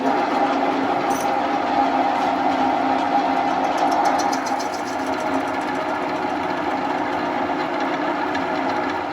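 A metal lathe runs steadily while turning bearing seats on a part, with a milky coolant emulsion sprayed on; a continuous, fairly loud mechanical whir and hum with a faint high whine holds for the whole stretch.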